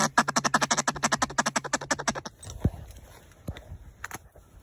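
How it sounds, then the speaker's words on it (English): Ducks on a New York hunt give a rapid, loud run of close quacks lasting about two seconds, followed by a few faint knocks and rustles. "There's some ducks right there."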